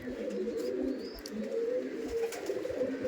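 Pigeons from a Howrah loft's long-kept line coo in a low, steady rolling murmur that runs throughout, with faint higher calls overhead and no talking.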